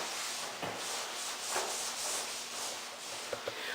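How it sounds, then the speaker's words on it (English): Scrub pad on a squeegee rubbing across restroom countertops, a steady, close, raspy scrubbing with soft repeated strokes and a few light knocks near the end. "the scrub pad on the squeegee is a good material for scrubbing off the countertops"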